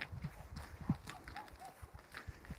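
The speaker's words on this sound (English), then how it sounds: "I want to show you these horses." Small, tiny horses walking outdoors on a hilltop, their hooves clip-clopping in a loose irregular rhythm of soft, close steps with light background noise and no talk.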